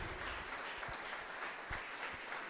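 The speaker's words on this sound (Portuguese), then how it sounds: "E a igreja diz amém e aplaude o Senhor Jesus bem forte." Church congregation clapping loudly and continuously, a dense steady roar of applause that fills the whole stretch without a break.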